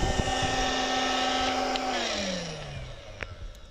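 An air blower on a manual milling machine runs with a steady whooshing hum and a faint tonal whine that slowly drops in pitch, holding at moderate volume throughout.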